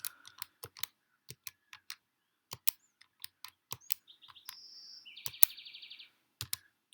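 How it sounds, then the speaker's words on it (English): Quick sharp taps of fingers pressing calculator keys while entering a long calculation, a spaced series of crisp clicks close up with short pauses, plus a brief run of electronic beeps near the end, in an otherwise quiet room. "I'm going to type that whole thing into my calculator."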